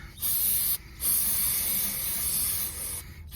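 Brake parts cleaner blasted over an abandoned 1977 El Camino engine in loud, close aerosol bursts: a short spray, a pause, then a longer continuous hiss that fades out at the end.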